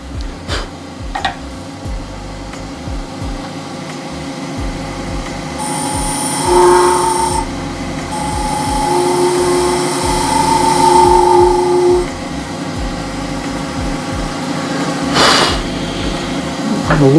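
Carbide tool cutting chameleon and holographic epoxy resin on a wood lathe, a steady whirring hum with rising squealing tones and scraping as the tool works the spinning shaving brush blank, no talking.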